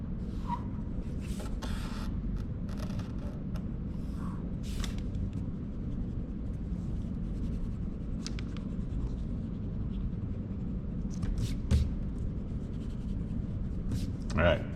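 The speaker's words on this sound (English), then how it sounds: "I'm going to take my ruler, straighten these lines" Graphite pencil drawn along a ruler to straighten one-point perspective lines in a foundations art lesson, a steady close scratching of several strokes with soft rubbing between them.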